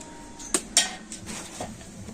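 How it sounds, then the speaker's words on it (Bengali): A metal lid comes off a pot of heated water with two sharp clinks close by, followed by fainter scraping and rattling of metal cookware. "এবার আমি ঢাকা খুলে দেখে নেব জল গরম হলো কিনা"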